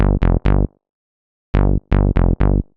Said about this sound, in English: It's a really nice saw bass, plucky saw bass that like almost always works.